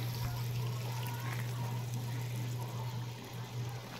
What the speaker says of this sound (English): the water runs downhill.